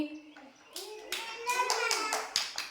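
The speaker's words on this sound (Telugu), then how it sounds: "అకిరానంద్ క్లాప్స్ కొట్టండి" A few young children clap their hands in short irregular bursts during a classroom pegboard activity, rewarding a classmate, with a voice and an adult's speech heard alongside the claps.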